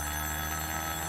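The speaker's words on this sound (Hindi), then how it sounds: "ओफो, मेरे पति का फोन है।" A telephone rings steadily, a dense continuous electronic ringing tone that fills the brief moment, fairly loud with no talk over it.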